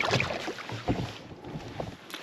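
A canoe is paddled through a flooded swamp at high water, with soft splashes and strokes repeating under steady wind noise across the microphone.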